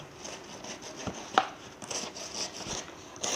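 A stone pestle pounds and grinds fried chili and tomato for sambal in a stone mortar, giving soft, irregular thuds and scrapes, one sharper knock among them, fairly close and without speech.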